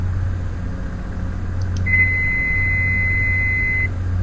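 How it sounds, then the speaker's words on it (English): Autopilot disconnect alert in Flight Simulator X, a steady electronic tone lasting about two seconds, preceded by a couple of short blips, over a constant low aircraft engine hum. "That was the autopilot going off."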